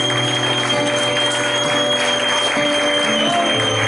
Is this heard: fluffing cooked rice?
no